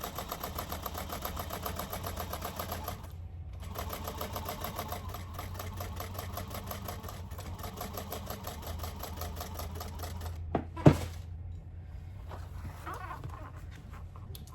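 A sewing machine runs steadily while top stitching down the sides of a tote bag seam, a continuous mechanical hum with a brief pause and a sharp click near the end.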